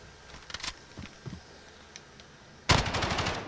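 Rapid automatic fire from an AUG rifle in a shooter video game, a loud sustained burst near the end preceded by a few scattered quieter shots and clicks.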